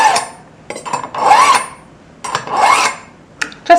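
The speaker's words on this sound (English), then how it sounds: "all you do is pull your knife through, maybe a half dozen times" A kitchen knife is pulled through a knife sharpener in several separate rasping strokes, each a loud, close metallic scrape lasting about half a second, with short pauses between.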